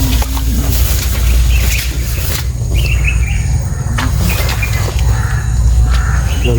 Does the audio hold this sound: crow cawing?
yes